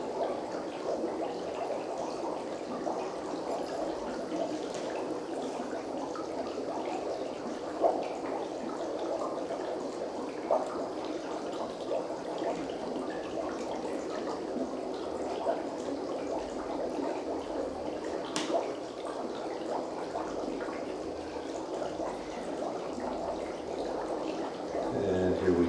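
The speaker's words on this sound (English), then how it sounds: "We're going to dip that into some soapy water." Carbon dioxide bubbling steadily through a tube into a dish of soapy water, a soft continuous gurgle held at an even level for the whole span with one brief sharper blip near the end.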